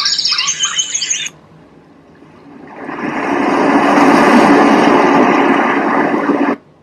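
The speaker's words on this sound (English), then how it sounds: "Birds chirping." Bright, tinny bird chirps play briefly and stop, then a steady rushing noise swells up and holds before cutting off abruptly.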